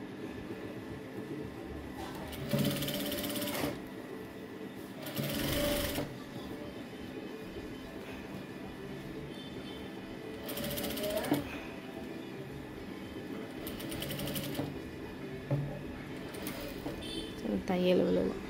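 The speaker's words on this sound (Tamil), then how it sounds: "இப்போ அந்த லைனிங்கை உள்ளே தள்ளி விட்டு படிமான தையல் வந்து ஒன்று போடணும்." A sewing machine stitching fabric lining runs in several short, close bursts of rapid mechanical whirring, separated by pauses, with a voice talking between and over the runs.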